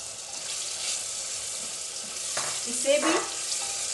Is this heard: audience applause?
no